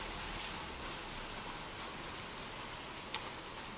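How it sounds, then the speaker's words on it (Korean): Rain falling outside, a steady, even hiss of drops on surfaces, continuous and fairly close with no voices. "밖에 비가 옵니다."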